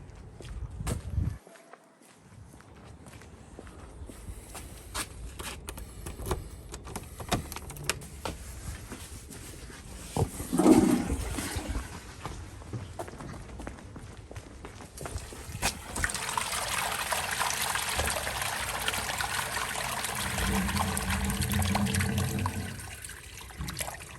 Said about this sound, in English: I'll flush his toilet and see where it goes.